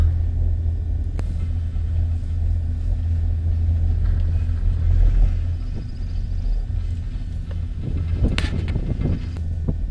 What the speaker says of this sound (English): Here we are coming down the gondola